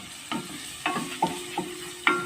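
Garlic sautéing over low heat in a pan, stirred in a handful of separate scrapes and taps against the pan over a faint, quiet sizzle, with no talk.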